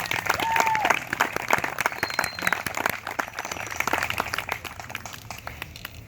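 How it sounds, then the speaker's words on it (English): A crowd applauds with dense, steady clapping that gradually thins out, with a faint whistle or voice rising briefly near the start. "Let's have a big round of applause for everybody that made it here today."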